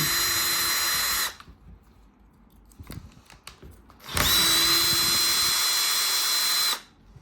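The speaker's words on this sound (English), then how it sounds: "all these nuts come out. Just unscrew them." Power tool unscrewing the 8mm nuts from an Audi airbag cover, two loud sustained whirring bursts of about a second and two and a half seconds, close up, with faint handling clicks between them.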